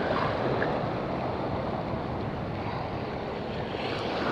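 Big sea waves churn and slosh around a small fishing boat in a steady, dense rush of water and wind noise, close and continuous with no talk.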